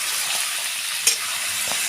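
Chicken marinated in salt, turmeric and mustard oil fries in a pan, a steady bright sizzle running throughout with a brief stir or clink about halfway through.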